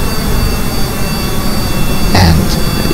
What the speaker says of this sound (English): The first plane got the engine throttled to full before the second one even got, well, throttled at all.